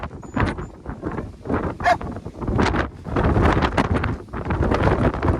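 Strong gusts of wind on a hilltop on the Kentmere Horseshoe in the Lake District buffet the microphone continuously, a loud rumbling roar that swells and fades with no voices.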